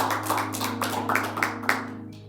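A congregation at a Sunday church service claps for the musician, a run of uneven, sharp handclaps over sustained organ-like tones that fades out near the end.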